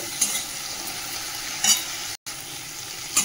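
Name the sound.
stirring tomato and turmeric frying in a pot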